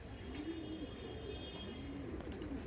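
Andhra pigeons, including a pair, give repeated low throaty coos close by, the rolling calls recurring throughout over a steady hum of background noise.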